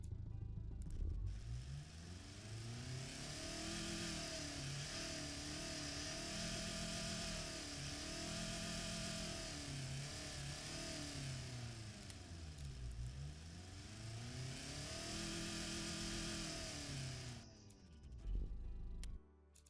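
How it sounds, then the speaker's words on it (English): A simulated 1949 roadster engine in the Automation car game idles, then revs up and down repeatedly in smooth rising and falling sweeps, loud and alone, before cutting off near the end. "Oh, listen to the idle."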